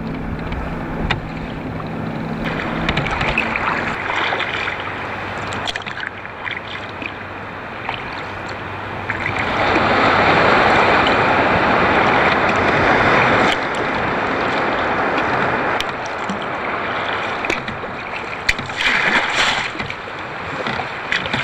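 Boat wake waves slapping and washing around sea kayaks on open water, a continuous broadband splashing and rushing that swells louder in the middle, with wind noise and no talking.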